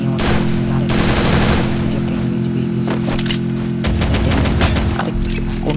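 Enemy gunfire in a video game comes as loud, rapid automatic bursts with metallic clinks between them. It is close and dense throughout, with a pause and then more bursts near the end.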